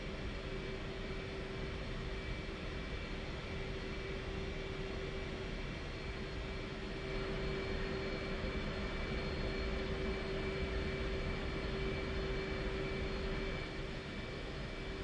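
An F/A-18 jet taxiing in the DCS flight simulator, a constant loud engine whine and roar with steady tonal hums that holds unbroken throughout, with no talk.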